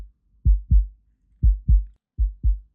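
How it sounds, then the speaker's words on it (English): Pounding heartbeat sound effect, three evenly spaced double thumps, deep and loud, each lub-dub pair separated by silence. "my heart pounding in my chest"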